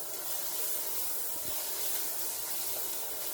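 Onions and mushrooms sizzle in butter in a pan, giving a continuous, fairly loud hissing crackle with no voices over it.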